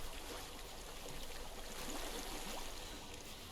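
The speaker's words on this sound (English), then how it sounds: "I hear water." A stream flows in the video game Hellblade: Senua's Sacrifice, a faint, steady wash of running water, continuous and even with no voices.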